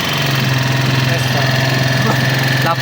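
An Empire Keeway RKV 200 motorcycle engine idles steadily and loudly with a rough, knocking rattle running through it, close by, without pause.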